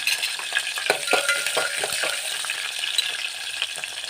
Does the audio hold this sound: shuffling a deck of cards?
no